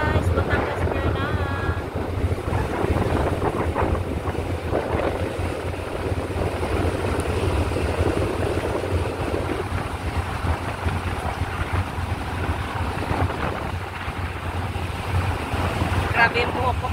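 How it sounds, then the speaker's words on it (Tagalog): Steady roaring wind rumbles across the microphone on a passenger ship's deck arriving at Batangas Pier, with a low engine drone and a few faint voices underneath. "Pakas ng hangin."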